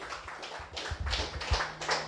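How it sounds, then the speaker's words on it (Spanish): A church congregation claps together after a call to praise God at a Spanish-language sermon, a dense burst of overlapping hand claps that rises and falls in waves, fairly loud and close. "Denle un fuerte aplauso al Señor"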